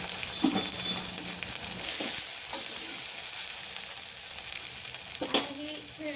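Spices and salt fry in a pan for a moong dal curry, giving a steady close sizzle with occasional stirring scrapes and clinks, with no talk.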